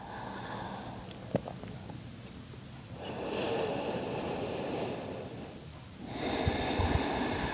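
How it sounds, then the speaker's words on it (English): Slow, long exhales during yoga breathing come as broad, airy rushes of breath, close and sustained over several seconds, separated by quieter pauses, with one brief sharp sniff early on. "And again, a slow and long and complete exhale out."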